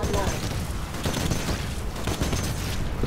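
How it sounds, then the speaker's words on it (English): A 40mm cannon in Titanfall fires explosive rounds in rapid succession, a dense, loud stream of booming shots with a rolling rhythm, with talk underneath. "The 40mm cannon doesn't do as much damage as one would think. You're shooting explosive rounds out of a chain link gun."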